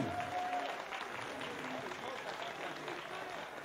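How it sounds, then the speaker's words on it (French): A small audience in a bar, in a room lent for the evening, gives quiet, even applause that holds steady throughout at a faint level, with talk mixed in beneath the clapping. "oui, on peut l'applaudir, oui"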